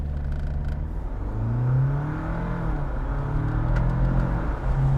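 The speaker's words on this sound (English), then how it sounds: "Full hybrid launch without traction control." A 2021 Jeep Wrangler 4xE plug-in hybrid accelerates hard from a standstill with traction control off, a steady low electric whir and rumble that rises in pitch, close and loud.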